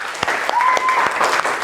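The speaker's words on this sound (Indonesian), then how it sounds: "Sekali lagi tepuk tangan untuk kita semua." A room of schoolchildren and teachers breaks into applause, steady dense clapping with a few sharper claps standing out, moderately loud and close, with a faint tone running beneath.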